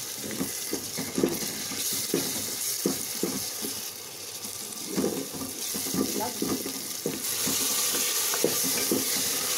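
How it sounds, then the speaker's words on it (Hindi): Ginger garlic paste frying with onions in a pan for meatball curry, a steady close sizzle broken by frequent stirring scrapes and clinks, with no one talking. "अब हमने ऐड इसमें जिंजर गार्लिक पेस्ट को हल्का सा हम लोग फ्राई करेंगे"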